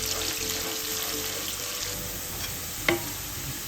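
Garlic sautéing in a pan until golden brown for Filipino lugaw, a soft continuous sizzle and crackle with a single sharp clink of a utensil near the end.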